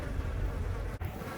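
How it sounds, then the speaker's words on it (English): Honeybee swarm in a tree beside a job site, a dense, steady buzz of many bees heard close and continuous with a brief dip near the end. "Honeybee swarm in tree next to job site."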